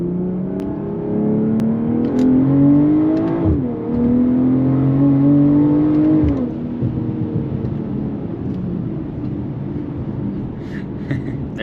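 A 2023 BMW M340i pulls hard, its engine note climbing loud and steady from the cabin, dipping briefly at two upshifts before rising again, then settling into a lower drone.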